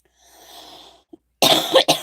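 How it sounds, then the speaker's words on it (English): A single sharp cough, close and loud, quickly followed by a shorter second burst, after a brief stretch of faint background noise. "Sorry, guys, for the cough."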